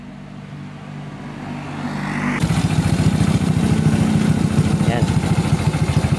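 A Honda XRM 110 motorcycle with an electrical fault, its battery getting no charging current, is started after a quiet pause. The engine catches and settles into a steady, close, pulsing idle while someone talks nearby.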